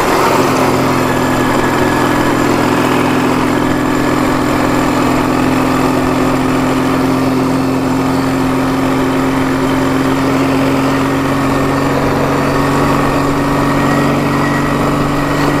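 A motorcycle engine that lacks pulling power drones continuously at a steady pitch while riding, loud and close, with no voices over the constant running hum.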